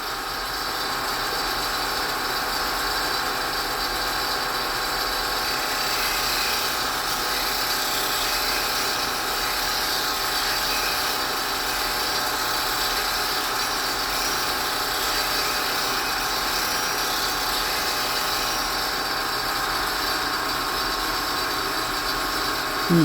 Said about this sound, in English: I'm just going to grind it a teeny bit more.